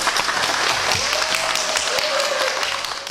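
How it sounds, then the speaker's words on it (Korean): Applause from the crowd at the opening of a Saturday market auction in Gurye, steady clapping with voices mixed in and a faint tone running underneath. "박수로 시작할게요."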